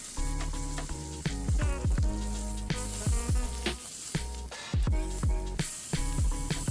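Steak edges sear in a hot pan with a constant loud sizzle, broken up by repeated crackling pops and spatters.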